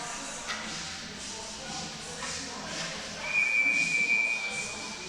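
Referee whistle at an ice hockey playoff game in the MIHL Bill Long Cup: one sustained, shrill blast lasting just over a second, cutting through steady arena crowd noise.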